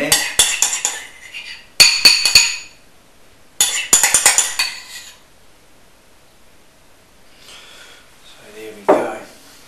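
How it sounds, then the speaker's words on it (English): A metal spoon clinks and scrapes against a dish in bursts while scooping a pink mixture into heart-shaped pappardelle moulds, with loud clattering clusters and pauses between them. "I'll use my spoon here, which will probably add some pink smears in there."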